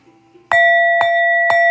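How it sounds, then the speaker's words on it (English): A bell is struck three times at an even, unhurried pace, each clear metallic ding ringing on with a long sustained tone that carries straight into the next strike, loud and close with no voices. "Let me ring the bell for y'all."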